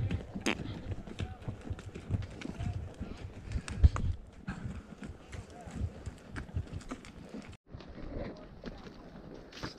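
Pack horses walk along a mountain trail near Mammoth Lakes toward Heart Lake, hooves clip-clopping in a steady, close rhythm with occasional louder strikes, while riders talk now and then.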